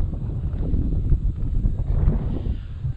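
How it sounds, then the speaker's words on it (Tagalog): Gusty wind at a hilltop peak buffets the microphone in uneven, rumbling bursts, loud and close, with no voices heard. "mahangin na dito sa taas."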